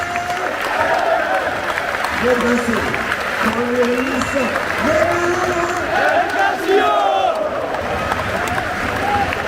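A packed stadium crowd at a Stade Brestois Champions League night applauds and roars for a substitution, a loud sustained wall of clapping and chanting voices with a commentator talking over it.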